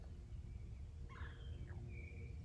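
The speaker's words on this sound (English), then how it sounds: "that sound of that clearing its throat, red-bellied woodpecker again" Red-bellied woodpecker giving a short rolling call once, fairly faint and distant over steady low outdoor background noise, a brief wavering burst followed by a thin higher note.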